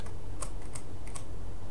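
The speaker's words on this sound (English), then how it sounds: "I'm pressing the up arrow on my keyboard" Keys on a computer keyboard are pressed, the arrow keys being used to steer a free camera in a game: three or four distinct, crisp clicks spaced across a couple of seconds, close and fairly quiet over a low steady hum.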